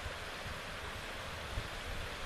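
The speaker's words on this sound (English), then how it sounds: "looks to be a spring bubbling up" A natural spring bubbling up on a wooded hiking ridge, heard as a steady, broadband rush of flowing water with a little wind, continuous and fairly close, with no voices.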